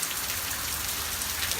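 Heavy rain falls in a steady, dense roar of drops hitting surfaces, continuous and fairly close, with no voices.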